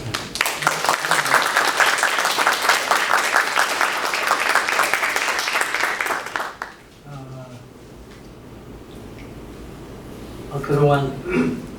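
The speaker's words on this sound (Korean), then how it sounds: "우리 신성길 박사에게 큰 박수 한번" Loud, dense applause from an award ceremony audience fills the room for about six seconds before cutting off abruptly, after which someone speaks at a podium.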